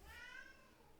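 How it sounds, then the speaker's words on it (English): Pet cat meowing once, a single drawn-out tonal meow heard close and clear, fading slightly toward its end with no talk over it. "My cat is talking."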